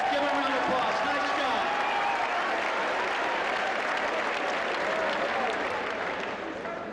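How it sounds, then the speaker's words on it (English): An audience at a speech applauds steadily, dense clapping filling the room throughout at an even loudness, with a voice faintly audible near the start. "Give him a round of applause"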